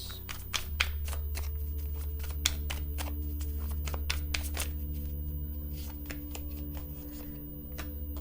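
A deck of truth oracle cards is shuffled up close, giving rapid crisp riffling snaps and card flicks. A low steady background hum runs underneath, with no speech.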